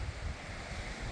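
Strong coastal wind at Shakespear Regional Park, New Zealand, rumbles and buffets the microphone steadily, with the wash of surf blended underneath.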